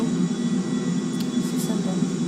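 Airplane engine in the GTA 5 video game droning steadily at low power, a continuous broad roar with a brief higher whoosh midway, under a quiet game backdrop.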